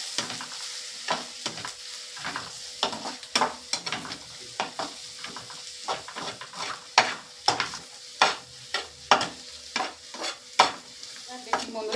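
Spices and turmeric with onion are stirred and sautéed for a stingray curry, a sizzling hiss broken by repeated sharp spatula scrapes and knocks against the pan at an irregular, quickening rhythm.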